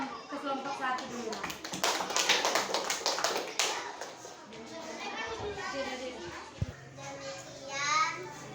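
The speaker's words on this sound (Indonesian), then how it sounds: "tepuk tangan untuk kelompok 1 dulu" Children in a classroom clap for the first group after its presentation, a burst of close, rapid hand claps in the middle of the clip, with children's chatter and voices around it.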